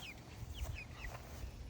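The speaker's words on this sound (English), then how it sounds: "So these are the chickens." Backyard chickens cluck softly in a quick series of short calls, fairly close, with a steady low hum underneath.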